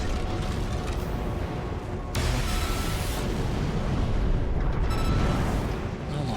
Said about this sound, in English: These plasma explosions really do good work.